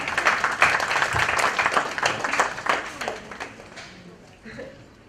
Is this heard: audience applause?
yes